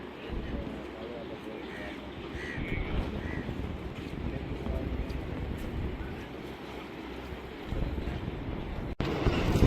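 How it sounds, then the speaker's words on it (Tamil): Boat loaded with motorcycles crossing a river to the far shore, a low steady engine rumble with water wash and wind buffeting, moderately distant and continuous, with a brief knock near the end. "இதில் வந்து பார்த்தீங்கன்னா இந்த போட்டில் வந்து மூட்டை சைக்கிள்களை ஏற்றி கொண்டு அங்காள கரைக்கு போய் கொண்டிருக்கிறோம்"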